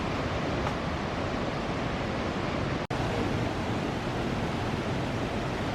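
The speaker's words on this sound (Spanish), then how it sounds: "con el sonido del agua rodeando todo el ambiente" Steady, dense roar of rushing water at Iguazú Falls in Brazil, a continuous broadband wash heard close and loud from a walkway, with no voices and only one brief dropout.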